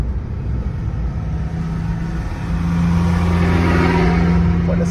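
A car in third gear accelerates during a driving lesson, its mid-pitched engine hum rising in pitch and loudness about halfway through over a constant low road rumble, close and loud, with no talking.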